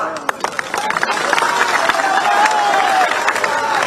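Clapping and cheering from a large crowd at an open-air Samajwadi Party election rally in Chandla, Madhya Pradesh, building into sustained applause with mixed voices and a raised shout or whistle over the noise.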